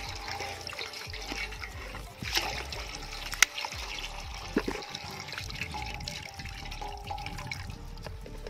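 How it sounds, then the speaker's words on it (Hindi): Flower-and-water mixture being strained to separate petals for homemade herbal Holi colour, giving a steady trickling, dribbling pour of liquid with a few soft splashes and drips, fairly quiet and close, with no voices. "फूल और पानी को अलग करेंगे। अलग करने के लिए हमें इसको छानना पड़ेगा।"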